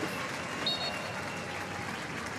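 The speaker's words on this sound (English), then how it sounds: "Plenty of applause from the home fans here for the Norwegian" Home fans applaud at a women's W-League football match between Canberra United and Adelaide United, a steady, distant wash of stadium clapping and crowd murmur that holds level from start to finish.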